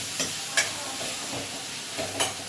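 Three large ground tomatoes hit a hot pan with a steady close sizzle, broken by a few sharp utensil clicks and scrapes and with no talk.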